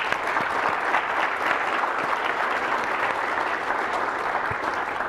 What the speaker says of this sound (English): Let's have a massive round of applause for all our awesome keynote speakers.